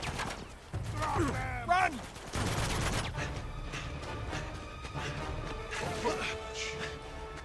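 Gunfire and bursts from the Uncharted 2: Among Thieves video game, crackling fusillades loud in the foreground with clanking mechanisms and a crash, while characters shout and talk over the chaos.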